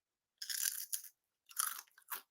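Two crisp, dry crunching bites into a freeze-dried pickle, each a short loud burst of brittle cracking close up, separated by a brief pause, with no talking.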